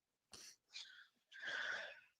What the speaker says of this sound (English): Just want to clear my throat.